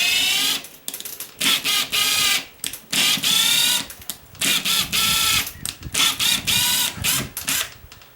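A very small ratchet driving a bolt while an exterior wall sconce light fixture is mounted, giving rapid, close mechanical clicking in repeated short runs with brief pauses between them.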